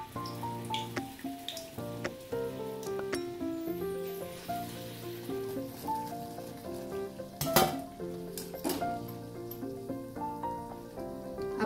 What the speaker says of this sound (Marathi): आता आपण ओव्याची पानं ही बेसन मध्ये अशी डिप करून तेलामध्ये सोडणार आहोत।